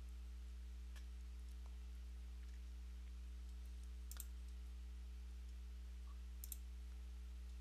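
A few faint computer mouse clicks while working in the Construct 2 game editor, sharp isolated ticks spaced a few seconds apart over a steady low electrical hum.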